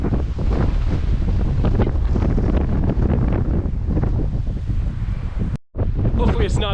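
Strong wind roars loudly and continuously across the microphone during a bike ride after climbing and descending Lee Hill, a buffeting rush that drops out briefly near the end before returning.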